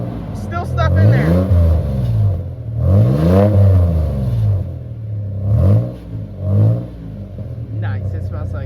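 A pickup truck engine revs repeatedly up close, each burst climbing in pitch and dropping back to idle, with several rises and falls and a rough exhaust note between them.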